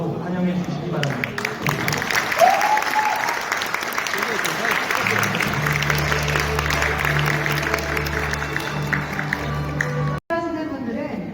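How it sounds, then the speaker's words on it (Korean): Sustained applause and cheering from an audience at an education policy forum in a hotel hall, welcoming the arriving superintendent, steady clapping throughout with a voice speaking over it partway through. "큰 박수와 환호로 환영해 주시기 바랍니다."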